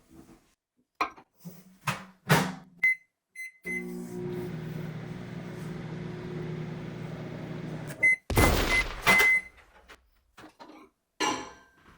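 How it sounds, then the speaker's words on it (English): A microwave oven hums steadily for about four seconds while softening cold butter, framed by clicks and clunks of the door and buttons, then a sharp beep and more kitchen clatter follow. "Let's microwave it."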